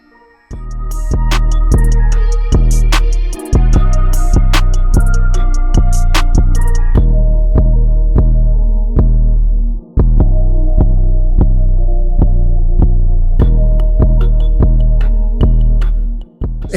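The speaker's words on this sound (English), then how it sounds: "Now I'm going to line up the top of my beard." A Panasonic precision beard trimmer buzzes steadily and loudly up close while trimming a beard, its strong hum interrupted by a couple of short stops and restarts as it lines up the top edge.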